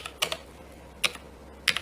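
Typing on a computer keyboard: three short clusters of crisp key clicks spaced about half a second apart, close and fairly quiet in an otherwise still room.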